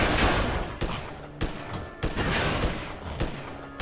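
Shots fired at a boss in WindForge, a series of sharp, punchy impacts spaced roughly every half second or so over a rumbling, noisy battle background.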